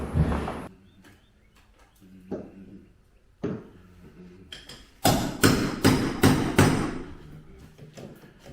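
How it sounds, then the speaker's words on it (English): Sharp hammer blows nailing wooden siding, a few scattered strikes early, then a rapid series of loud bangs near the end. "Don't mind Don, he's out there nailing the siding where he can't get in trouble"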